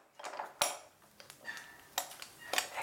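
Metal moka coffee pot being put together with ground coffee, a series of light clinks, taps and scrapes of metal parts, close and intermittent, with no talk.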